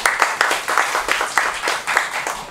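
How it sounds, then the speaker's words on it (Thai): An audience at a certificate ceremony claps in brisk, close, uneven bursts, filling the room with steady applause. "ขอเสียงปรบมือด้วยค่ะ"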